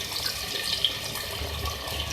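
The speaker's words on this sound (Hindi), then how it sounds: "अब इसके अंदर जो है हम थोड़ा सा पानी ऐड करेंगे" About half a cup of water runs steadily into a cooking pot holding chicken for a tandoori handi, a continuous close pouring rush with no talk.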